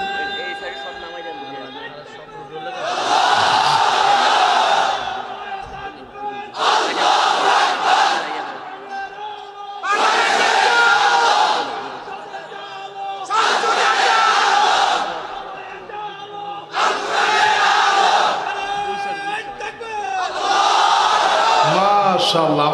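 Large crowd at an Islamic religious gathering (waz mahfil) in Cumilla chanting a slogan in unison, six loud rhythmic bursts separated by short pauses, with a lead voice calling between them.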